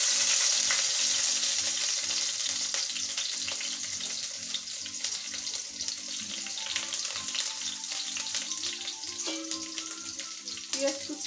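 Chopped onion frying in hot oil with cinnamon, cardamom and bay leaf, giving a dense, steady sizzle that continues throughout with occasional stirring scrapes, close to the pan, while a faint low hum runs underneath.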